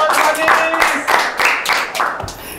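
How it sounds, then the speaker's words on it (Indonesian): Audience applause at a mock presidential debate show in Bali: steady clapping under loud cheering and voices throughout, fairly close and lively. "Oke, kita beri tepuk tangan yang meriah."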